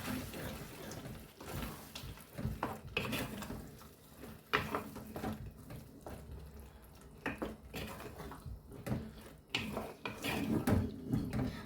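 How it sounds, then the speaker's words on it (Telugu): Paste being added and stirred into gongura chicken in a pan, with a steady run of scraping, clinking and wet mixing sounds that continue close by and fairly loud for the whole stretch. "చూడండి ఇది వేస్తున్నాను పేస్ట్. వేసి కలుపుకుందామండి."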